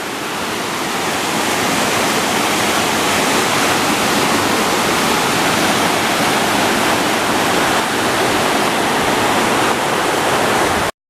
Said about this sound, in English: That sound you hear is the wind and the creek,